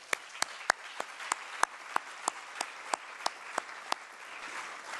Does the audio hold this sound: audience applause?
yes